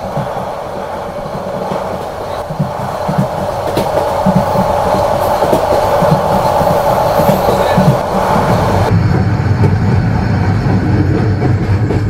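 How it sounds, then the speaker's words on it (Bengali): A night train bound for Cox's Bazar runs steadily along the tracks, heard from inside as a loud, continuous rumble with rhythmic clatter from the wheels and a brief shift in tone near the end. "মাঝখানে এক বিরামহীন গতিতে ট্রেন এগিয়ে যাচ্ছে"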